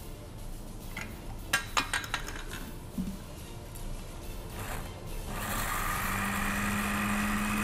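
Some clinks and rattles, then a kitchen blender whirs to life, its motor running loud and steady at close range.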